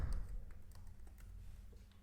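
Soft keystrokes on a computer keyboard as a zip code is entered, several faint taps spread quietly over a low background.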